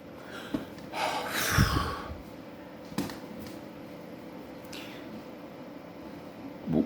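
A voice imitates gasping for air under a face mask, giving a sharp breathy intake and snort early on, followed by quieter breaths and a few faint clicks against a steady low hiss.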